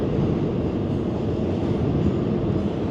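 Loud, steady rumble of freight trains rolling past on a line near Sandusky Bay, a continuous dense roar with no break, filling the whole stretch and drowning out everything else.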